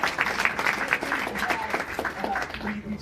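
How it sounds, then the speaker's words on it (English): An audience at an evening student group's final presentations claps in a dense, moderate patter of many hands, spread through the room and holding steady for a few seconds. "so round of applause"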